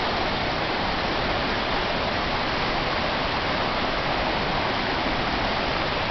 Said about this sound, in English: The stream isn't deep.